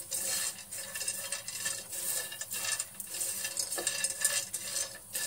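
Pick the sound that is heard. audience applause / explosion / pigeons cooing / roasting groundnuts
roasting groundnuts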